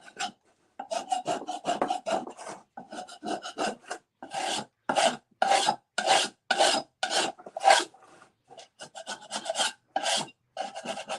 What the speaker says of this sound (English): I'll go around my edges and scrape.